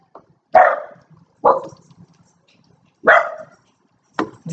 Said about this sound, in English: here goes my dog